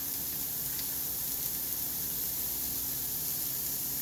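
Cauliflower seasoned with salt and pepper sizzles and caramelizes in a hot pan, a steady, even hiss of frying that holds at one level throughout with no voices.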